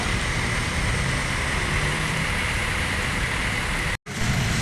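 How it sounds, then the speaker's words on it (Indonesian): Heavy road traffic with a Bina Nusantara bus rolling past, a steady broadband engine and tyre roar at constant loudness that drops out abruptly for a moment near the end, then resumes. "Nah, ini ada bus Bina Nusantara."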